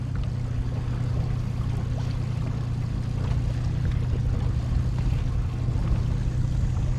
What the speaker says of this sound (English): Single 300 horsepower Yamaha outboard, white motor, white T-top